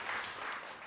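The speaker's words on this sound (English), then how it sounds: "Another round of applause for Eerie Essex" A brief, faint burst of audience applause at the close of a live podcast show recorded before an audience, a dense, even patter of clapping.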